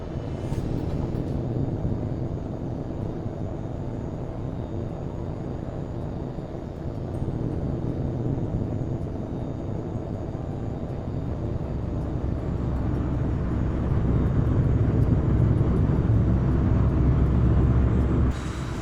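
A jet fighter in Tom Clancy's H.A.W.X 2 spools up and rolls for takeoff, a loud sustained engine roar and rumble that swells steadily heavier toward the end, heard alone.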